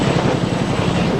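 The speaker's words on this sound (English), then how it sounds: "a familiar sound grows in intensity as a big twin-rotor Chinook" A big twin-rotor Chinook helicopter churns steadily near the Snake River while picking up a water payload, a loud, dense, continuous rotor thrum and engine roar with no pauses and no voices.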